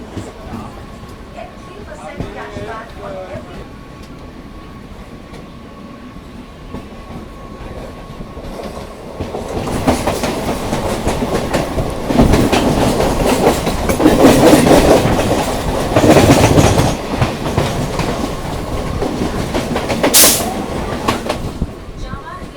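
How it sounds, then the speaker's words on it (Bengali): A Howrah–Bandel local train pulls out of Bhadreswar station, its rumble and clickety-clack of wheels swelling loud and close from about the midpoint, with brief wheel squeal near the end. "আমরা এখন ভদ্রেশ্বর স্টেশন ডিপার্চার করছি"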